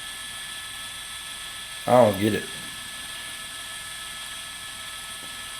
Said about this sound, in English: that helicopter overhead is really doing that critical work of trying to observe anything